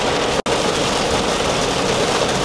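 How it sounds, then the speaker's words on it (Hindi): Heavy rain heard from inside a car makes a loud, dense, continuous hiss and drumming, with a brief dropout near the start, and no one talks. "बहुत ही क्रेजी बारिश हो रही है।"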